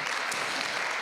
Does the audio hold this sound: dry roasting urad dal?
no